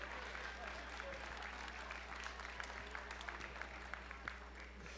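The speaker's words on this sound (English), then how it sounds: "big round of applause for every single volunteer you see here behind me" An audience applauds volunteers at the Philadelphia Open Qualifier competition event: a steady, dense wash of clapping throughout, somewhat distant, over a constant low hum.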